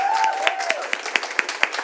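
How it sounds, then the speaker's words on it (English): An audience applauds at a UK Barista Championship 2023 regional heat in Cardiff, with sharp individual claps standing out over a steady wash of clapping, and a faint sustained tone running underneath. "round of applause for Lizzie."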